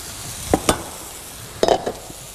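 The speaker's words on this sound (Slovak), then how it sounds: "Rezne sa nám opekajú, netrvá to dlho." A steady sizzle of pork cutlets frying in a pan, with a few sharp clinks and scrapes of a utensil against the pan.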